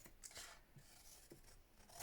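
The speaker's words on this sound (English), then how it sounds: "Cut an angle across the bottom" Scissors snip through previously printed paper at an angle, making a few quick close cutting strokes with soft rubbing between them, nearly alone.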